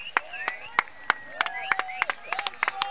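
Scattered, uneven hand claps from spectators at a Vasai Virar Premier League cricket match during the last over, sharp and fairly close, mixed with crowd voices and shouts.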